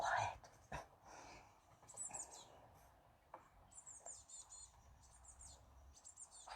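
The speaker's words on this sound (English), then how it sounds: "you can hear them chattering away. That's mostly the juveniles begging for food." Young house sparrows chatter and beg for food from parents, giving bursts of quick high chirps near and far, intermittent and faint, with soft whispered talk in between.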